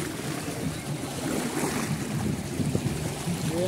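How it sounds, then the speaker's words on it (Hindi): Water rushes at speed through the open gates of Bargi dam, a steady, loud, broadband roar with no breaks, like heavy surf mixed with wind buffeting the microphone. "देख पानी कितनी स्पीड से आ रहा है"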